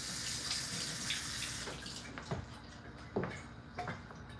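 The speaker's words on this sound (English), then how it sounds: "Water." A kitchen tap runs into a pan in a loud, steady hiss that cuts off halfway. A few soft clinks and knocks follow.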